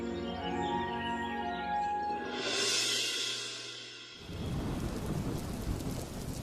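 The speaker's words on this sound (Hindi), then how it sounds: "चारों तरफ बारिश बढ़ती जा रही है" A cartoon storm soundscape: tonal music fades as a rumble of thunder swells, then a steady wash of heavy rain takes over, with no voices.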